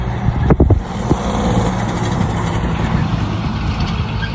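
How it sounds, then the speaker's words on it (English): Heavy trucks rumble past on a road beside a construction area, a loud, low engine drone with a brief thump near the start, continuous and close. "Sorry for the trucks."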